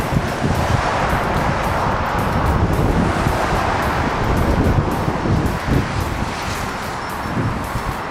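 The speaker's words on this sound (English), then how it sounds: "It's quite windy as well." Strong wind roars steadily across the microphone while riding a scooter up steep hills on a suburban road in Kelmscott, a loud continuous rushing buffet with no talking.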